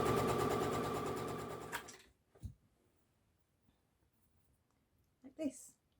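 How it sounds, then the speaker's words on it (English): A sewing machine stitches the raw edges of a dress seam with a steady, close whirring hum for about two seconds, then stops, leaving faint handling clicks and rustles. "you're now going to sew the raw edges together with a 4mm stitch"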